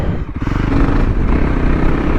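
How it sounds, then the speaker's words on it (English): A Voge 300 Rally motorcycle pulls away in third and shifts up to fourth, its single engine note close and loud, rising and pulsing as it accelerates under wind rumble. "I just pulled away in third there and went straight to fourth, because it gives its torque quite low down"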